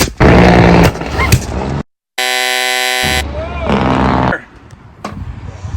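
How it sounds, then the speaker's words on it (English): A compressed-air tennis ball launcher fires at a company competition, one loud sharp blast with a brief steady tone, set between stretches of noisy crowd chatter. "Shoot the tennis ball gun."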